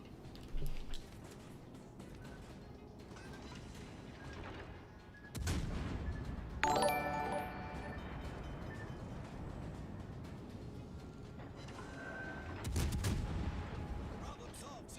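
Naval guns firing high-explosive shells in the World of Warships: Legends game, booming in a few heavy salvos over steady engine and sea ambience, with a voice talking at times.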